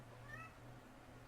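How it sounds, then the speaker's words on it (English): A cat meows once, faint and distant, a short rising cry heard over a low steady background hum. "Is that a cat?"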